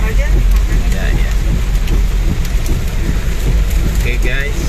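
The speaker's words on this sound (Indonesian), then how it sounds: "Nah, ini hujan makin deras." Heavy rain falls steadily during a drive home from Tanjung Lesung to Tangerang, a loud, continuous hiss filling the whole stretch while voices talk faintly beneath it.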